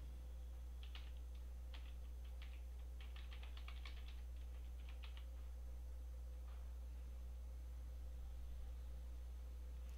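Fingers type on a computer keyboard while entering an email login, sounding as a quick burst of close, clicky keystrokes for a few seconds, then tapering to occasional taps over a faint steady hum.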